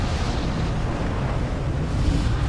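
A grenade goes off in a video game as a loud, sustained rumbling blast with a rough, dense roar that fills the whole short moment, with no talk.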